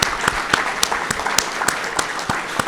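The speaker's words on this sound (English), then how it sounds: "let's give the Diamond Event Center a round of applause for their excellent meal and service today" Applause from an audience at an awards luncheon in an event center, with steady clapping at close range that carries through the whole short stretch and no voices over it.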